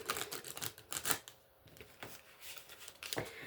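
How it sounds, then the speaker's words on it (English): Quick riffling and snapping of cards being shuffled, a few rapid bursts close up with brief pauses between. "So just going to give these a quick shuffle."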